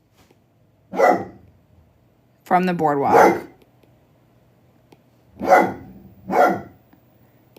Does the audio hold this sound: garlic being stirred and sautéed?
no